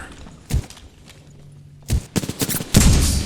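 Gunfire in the battle royale game Apex Legends: a single sharp shot, then a rapid cluster of loud bursts and a sustained barrage near the end, punchy and close.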